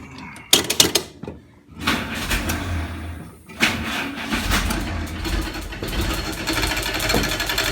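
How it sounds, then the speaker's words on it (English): A WWII Jeep fitted with a Westinghouse T1 air compressor starts up after a few knocks and clicks, then runs with a loud, steady mechanical clatter and engine rumble close by. "It's a pretty noisy compressor, but it's working."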